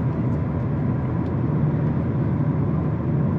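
A 2024 Mazda MX-5 Miata with a manual gearbox drives along, producing a steady engine and road drone inside the cabin with no distinct gear change standing out.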